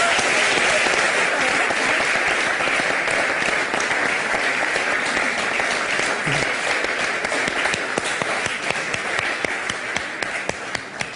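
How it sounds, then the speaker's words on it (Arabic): A large crowd applauds for Eid in a long, loud, continuous burst, individual claps sharp near the end, with faint voices mixed in. "تصفيق على العيد"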